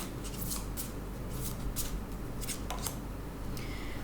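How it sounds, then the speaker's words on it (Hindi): A card comes out of a Shiva oracle deck during a tarot reading: close, soft papery shuffling and rubbing with several brisk riffling bursts, steady and quiet, with no talking. "okay one last card Shiva auricle से लेते हैं"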